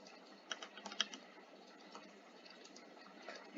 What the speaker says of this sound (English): my keyboard's very clanky